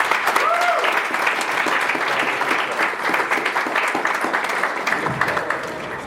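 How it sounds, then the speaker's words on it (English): Dense, sustained applause from a packed audience at a hacking conference keynote, even and loud across the whole span with a few faint voices in the crowd. "please, a round of applause for Mr."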